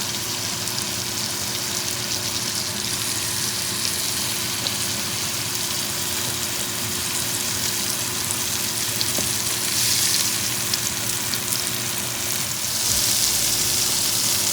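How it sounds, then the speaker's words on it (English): Mushrooms sautéing with thyme in a cast iron pan, a steady, moderate sizzle that runs throughout and swells slightly toward the end, no voices. "continue sauteing my mushrooms"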